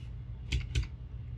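Two quick keystrokes on a computer keyboard while copying a line in Revit software, close and crisp over a low steady background hum, with no talking.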